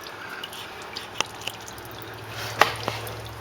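CVT fluid draining from a 2007 Nissan Murano into an oil drip pan, heard as scattered soft drips and a few sharper splats over a low steady background.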